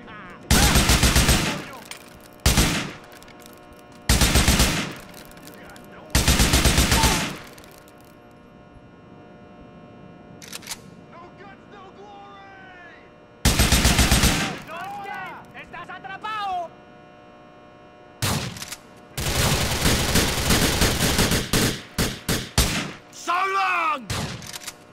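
Bursts of gunfire in GTA IV, snowstorm mission: several loud, sharp volleys of rapid shots separated by quieter stretches, with voices calling out between the shooting.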